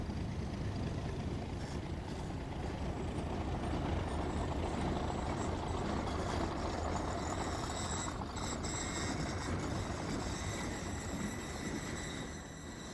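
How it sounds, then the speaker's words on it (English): An InterCity express train draws into Port Talbot Parkway station with a continuous broad rumbling roar and high metallic tones, loud and steady before easing slightly at the end, with no talk. "an intercity express pulls into the station"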